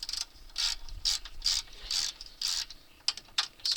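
Ratchet wrench clicking in quick bursts while backing out two 10mm bolts from a car latch during accident damage repair, close and crisp with short pauses between runs of clicks.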